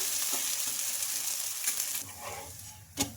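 Dosa batter made with corn flakes crisps on a hot pan, a steady soft sizzle of frying fills the whole stretch with no talking, ending in a brief sharper tap near the close.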